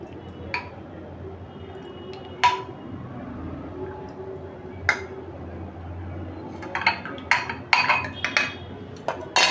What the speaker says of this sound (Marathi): आता आपण हे छोटंसं स्टीलचं भांडं आहे ह्याच्यामध्ये मी आता हे उरलेलं काढते